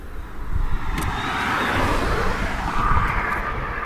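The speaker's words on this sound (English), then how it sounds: "unfortunately the traffic's a little heavier than usual today" Road traffic on Highway 81 passes steadily, with a broad engine and tire roar that swells as vehicles go by and no speech.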